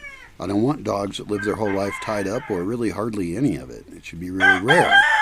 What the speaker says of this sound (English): there's a rooster crowing that is in a little cage